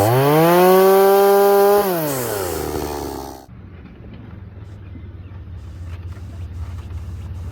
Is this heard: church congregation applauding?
no